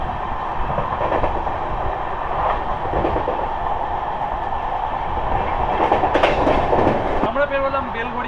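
Sealdah Ballia Express running with LHB coaches near Dum Dum and Belgharia, a loud continuous rumble with rhythmic clickety-clack from the rails, a brief squeal near the end.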